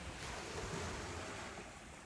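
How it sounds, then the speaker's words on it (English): Ocean waves on the shore at Tybee Island on the Atlantic coast: a soft, continuous surf wash with windy noise, moderately distant and low in level, no talk. "The waves feel different in this place."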